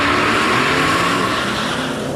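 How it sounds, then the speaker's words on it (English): Holden Commodore and Ford Falcon launching off the line at a Heathcote Park drag strip test-and-tune day, the Commodore spinning its wheels; a loud, continuous roar of engines with tire noise that eases slightly toward the end. "Oh, a fair bit of wheel spin from the Commodore there as the Falcon got the nose out in front."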